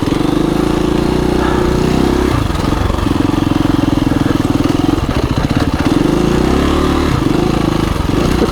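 A KTM 350 EXC-F dual sport dirt bike on a ride, its single-cylinder engine loud and close with a throbbing, chopping note that rises and falls as the throttle is worked, briefly easing off between pulls.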